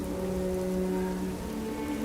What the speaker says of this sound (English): Not only is it dark, it's raining.